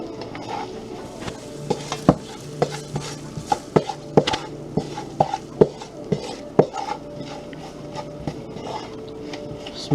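Curry seasoning for a catfish curry fries in a pan with a low sizzle under repeated sharp clinks and scrapes of a utensil stirring against the pan, close and irregular.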